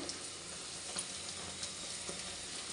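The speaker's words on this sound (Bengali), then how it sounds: "এবার তেলের মধ্যে একটা একটা করে কড়াইশুঁটির কচুরি বেলে" Pea-stuffed kachoris frying in a deep pool of hot oil, giving a faint, steady bubbling sizzle that holds evenly throughout, heard alone without speech.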